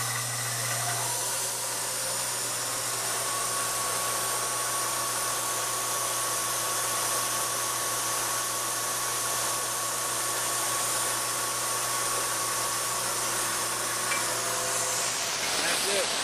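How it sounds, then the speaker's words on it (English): CNC milling machine running a chamfering pass around the edge of a handle, giving a steady, dense whirring hum with a constant low tone that holds unchanged for the whole stretch and drops off near the end. "Last tool I'm putting in will put a nice chamfer all the way around the edge so I don't have a sharp corner."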